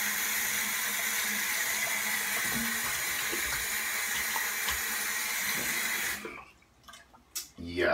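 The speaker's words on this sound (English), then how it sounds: "So I'm just gonna wet my face real quick." A bathroom tap runs in a steady close hiss as water wets a face before shaving, then cuts off after about six seconds, leaving a few faint splashes and handling noises.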